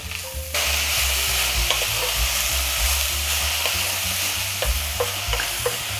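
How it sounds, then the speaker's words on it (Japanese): Green onions and ginger are stir-fried in a pan before pork goes in for a sake-lees pork soup. A loud, steady sizzle kicks in abruptly and continues close up, with occasional spatula scrapes and clicks on the pan. "そしてネギを入れて炒めます。"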